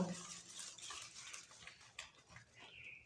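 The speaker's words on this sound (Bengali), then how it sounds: "কিছুক্ষণ এভাবে ফেটিয়ে ভালো করে একসঙ্গে মিশিয়ে নেব" Butter and egg beaten together in a bowl for a homemade Christmas fruit cake, a steady close scraping and whisking with light clinks of utensil against the bowl.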